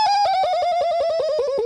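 A voice imitates an old-school video game death sound, a quick warbling tone stepping downward in pitch over under two seconds, close and alone.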